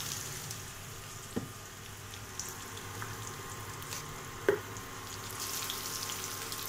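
Tomatoes with salt cook in a pan, giving a soft steady sizzle with a few faint clinks and taps, low and continuous with no talking.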